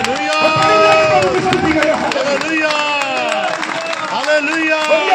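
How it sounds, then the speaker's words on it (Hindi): A church congregation at a Monday evening worship service claps hands in praise, a steady burst of clapping mixed with loud, excited voices calling out. "कोई ताली बजा के प्रभु का धन्यवाद दे।"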